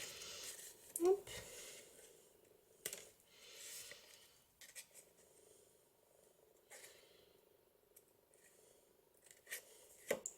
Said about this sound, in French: Le ciseau Stampin' Up est parfait pour ça, puisqu'il coupe donc jusqu'au bout, jusqu'à la pointe